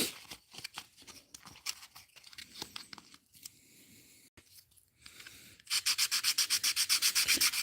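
A wooden musky crankbait's diving lip is sanded by hand, in close, quick back-and-forth rasping strokes with short pauses, ending in a louder, steady run of fast rhythmic rubbing.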